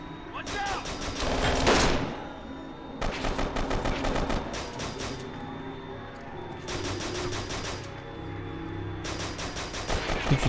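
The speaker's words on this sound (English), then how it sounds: "The pistol at the start is very strong, so that's why I'm using it" Pistol and gunfire in the shooter game Kane and Lynch 2: Dog Days comes in dense rapid bursts of sharp cracks separated by short pauses, loud and close, with someone talking over the shooting.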